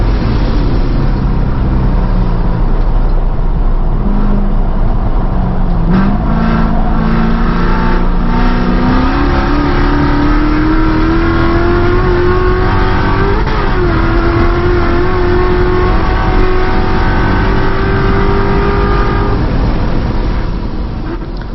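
A Corvette C7 Z06 race car laps Buttonwillow at a time attack event, its engine roaring loudly and continuously from onboard, pitch climbing steadily through the gears with brief shifts along the way.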